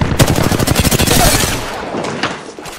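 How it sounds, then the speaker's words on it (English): Close, loud gunfire in Apex Legends: rapid automatic bursts rattle in a quick, steady rhythm, then thin out into a few scattered shots and trailing echoes. "Shots fired at me."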